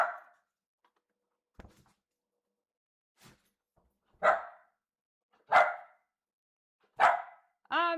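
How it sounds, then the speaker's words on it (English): A dog barks in a quiet indoor room during a casual fabric and quilting chat, giving about four loud, spaced single barks followed by a short whining yelp, with faint clicks and brief talk nearby. "Not so bad except for the barking dog."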